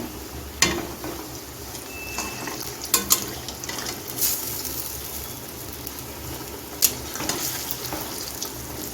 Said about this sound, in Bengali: কড়াইতে সাদা তেল দিয়ে গরম করে নিয়েছি এখন গ্যাসটা মিডিয়ামে রেখে আমি কোপ্তাগুলো ভেজে নেব